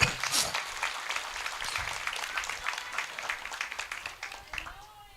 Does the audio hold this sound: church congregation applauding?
yes